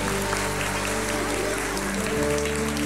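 A church congregation at a Sunday service applauds, a dense wash of clapping under steady sustained musical tones, continuous and fairly loud.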